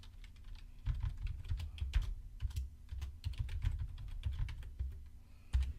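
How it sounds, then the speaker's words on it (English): Keys clack on a computer keyboard as a username is typed, a quiet, close, irregular run of taps with brief pauses and no talking. "type it into the username field here"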